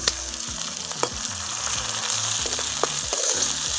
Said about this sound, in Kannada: ಟೊಮೊಟೊ ಹಾಕೋತಾ ಇದ್ದೀನಿ.